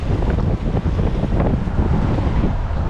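Strong wind buffeting a microphone out on the water during a kayak outing, a loud continuous low roar and rumble with faint wave wash underneath, no voices.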